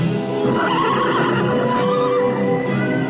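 A female donkey brays as a sound effect: a single loud, harsh call with strained, layered tones lasting about three seconds, with no voices.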